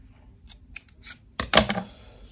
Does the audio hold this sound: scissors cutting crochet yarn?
yes